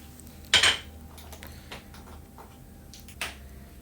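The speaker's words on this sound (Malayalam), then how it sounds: "അതിനായിട്ടൊരു മിക്സി ജാർ എടുക്കുക. 1 കപ്പ് ചിരകിയ തേങ്ങ അതിലേക്ക് ഇടുക." Grated coconut goes into a mixer jar with two sharp clinks of a spoon against the jar, a few seconds apart, and light rustling in between.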